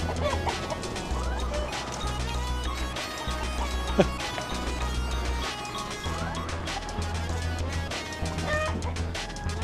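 Chickens cluck on and off in the background while people talk throughout, with a brief sharp knock midway.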